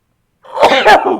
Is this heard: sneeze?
yes